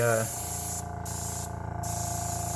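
An airbrush sprays alcohol ink onto a large canvas, giving a steady broadband hiss that runs almost throughout, with two brief dips where the spray pauses, plus a low motor hum underneath.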